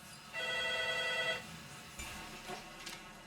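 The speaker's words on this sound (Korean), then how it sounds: "그때 집 유선 전화로 남편이 전화를 걸어왔다." A home landline telephone rings in a single sustained burst of warbling electronic tone lasting about a second, followed by quieter room noise with a few faint knocks.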